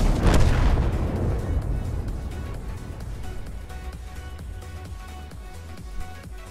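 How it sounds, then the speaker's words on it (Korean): Booming cannon shots from a heavy tank firing a three-round clip in the World of Tanks video game, a loud blast up front followed by rapid repeated shots and rumbling reverberation. "3발 클립을 쏴 헤비가."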